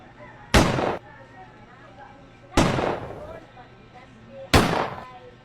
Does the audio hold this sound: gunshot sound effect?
yes